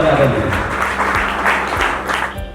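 Audience applause welcoming Ashutosh ji and other athletes at a sports gathering in Jamui, a steady wash of clapping with speech-like voices over it throughout.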